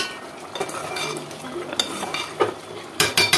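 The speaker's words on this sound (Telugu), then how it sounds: "ఒక్కసారి కలిపేసేసుకుందాము. ఆల్మోస్ట్ దగ్గర పడిందనమాట కర్రీ." Chicken curry stirred in a pot: a spoon scrapes and clinks against the metal in irregular strokes, loudest in a few sharp knocks near the end, over a low simmering hiss.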